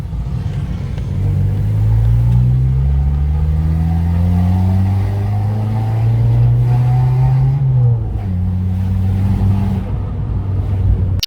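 A Fiat 500 Pop with a straight-piped exhaust revs close up, a loud raspy engine note climbing gradually in pitch, then dropping back and rising again briefly before cutting off.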